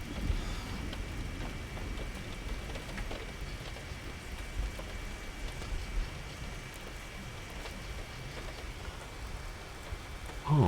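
Steady rainfall patters throughout a horror video game scene, a continuous even hiss of drops striking surfaces, with a faint sustained tone beneath and a brief knock near the end.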